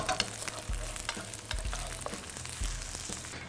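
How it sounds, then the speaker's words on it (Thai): Shiitake mushrooms stir-fried in camellia seed oil sizzle steadily in a pan, broken by several scraping stirs of a utensil, close and alone without talk. "นี่ผัดเห็ดหอมครับให้หอมกับน้ำมันก่อน"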